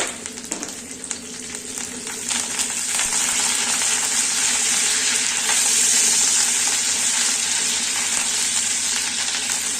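Chana dal and coriander sizzle steadily in a hot pan, with a loud, continuous frying hiss that swells and thickens after a couple of seconds and stays close, with no voices.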